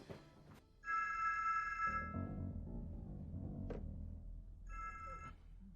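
A telephone ringing as a call is placed, heard as repeated electronic rings in bursts, loud and close, with a pause in between filled by low background hum and no talking.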